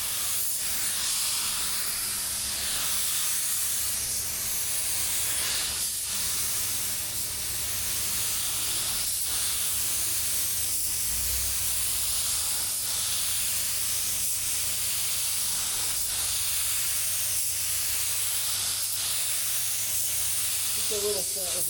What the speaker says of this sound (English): I'm really happy with how this Drizzle Pro is spraying